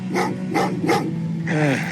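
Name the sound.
dog barking in Terminator Resistance video game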